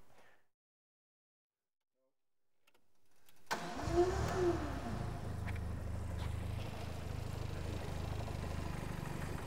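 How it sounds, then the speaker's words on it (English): After a few seconds of near silence, a Ford Escort RS Turbo engine cranks and catches, then settles into a rough, lumpy idle that rumbles on steadily close by. "So I'm going to start the engine up."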